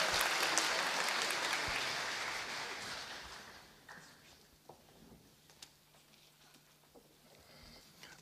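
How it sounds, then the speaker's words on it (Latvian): Orchestra concert applause: a dense, loud wash of clapping that fades over about four seconds into a quiet hall with a few scattered claps and clicks. "Viņai arī maza aplausni"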